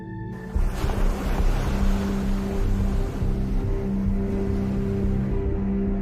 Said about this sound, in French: Le défi, c'est de passer les vagues.